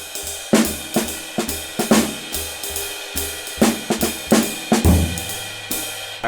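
A jazz drummer comps on a kit with accented snare and bass drum hits over cymbals, the low and high notes irregularly placed, played up close and loud with no talking.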